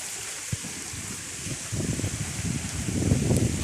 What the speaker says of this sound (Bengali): বাতাস হচ্ছে